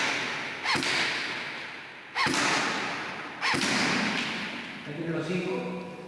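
An airsoft replica fires shots at a target, three sharp cracks clearly spaced about a second and a half apart, each followed by a fading hiss, with a brief tonal sound near the end.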